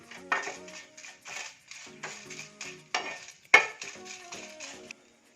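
Dried red chillies roast in a pan for spicy Nagpuri Saoji mutton curry, with repeated bursts of stirring, scraping and light sizzling, up close and fairly loud, plus one sharp clatter near the end.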